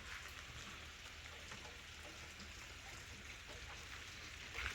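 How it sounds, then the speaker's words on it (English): Light rain patters steadily over a forest, a faint, even hiss of drops on leaves and ground with no voices, swelling slightly at the very end. "let me show you the rest of the forest because it's not raining too hard anymore"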